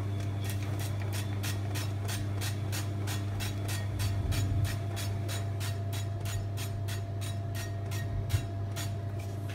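Fry Light oil spray pumped into a pan in a long, even series of short, sharp squirts, about two or three per second, close by over a low steady hum.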